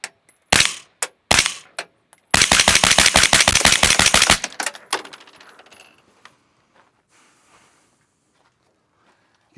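An HPA gun fires through a Radical Defense CS5 suppressor, loud and close: a few sharp single shots, then a rapid burst of about a dozen cracks before fading into faint rattles and quiet.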